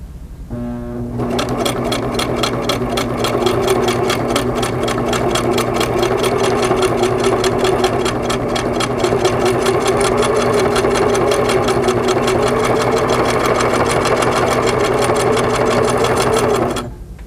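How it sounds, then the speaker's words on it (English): A Singer sewing machine runs steadily in a straight stitch around a fabric applique for quilting, a loud, even, rapid mechanical chatter that holds without pause and then stops. "use the foot as a guide to straight stitch around the applique"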